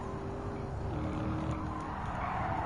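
A race car's engine drones steadily as it pulls past a Ford Mustang in Gran Turismo 7, a continuous mid-level hum with a rising pitch shift and faint tire noise.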